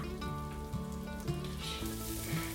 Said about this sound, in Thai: น้ำมันเริ่มร้อนใส่หอมแดงค่ะ หอมแดงซอย เราจะเจียวหอมแดงนะคะ